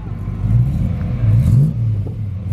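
A 4.0-litre V8 in an MGB GT with a custom exhaust idles outdoors, a steady, smooth, deep rumble held close and fairly loud for the whole stretch.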